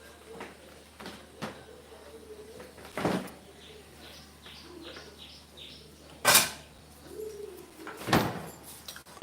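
Birds calling outdoors around a mango tree in a home garden, with soft repeated cooing and short chirps at a distance, broken by a few loud close knocks and clatters.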